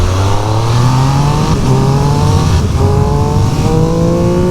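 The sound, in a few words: Triumph Speed Triple RS 1200 motorcycle accelerating onto motorway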